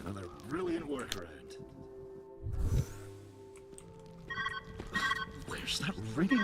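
A ringing phone in the puzzle game Viewfinder, a faint electronic ring partly buried under someone talking and game sounds, with brief rings near the end.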